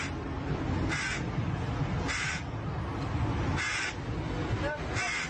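Crow caws in a video game, four loud harsh calls spaced about a second apart, heard over a dense, busy game soundscape.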